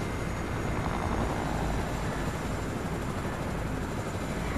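Helicopter in the Fortnite video game, a loud, steady, continuous rotor and engine roar with no break and no talking.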